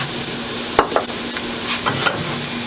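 Butter and a little oil foaming and sizzling in a hot pan, a steady crackle with a few short scrapes as the pan is stirred or shaken.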